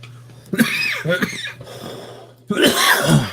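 Loud, close coughing in a few rough bursts separated by a pause, with a steady low hum underneath.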